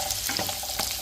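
Onion and saltfish frying in a pan, a quiet, soft sizzle with a couple of brief scrape-like bursts, faint and close.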